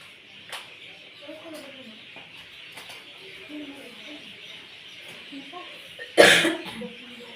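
A single sharp cough rings out near the end, close and loud, after quiet background with faint bird calls from an evening setting.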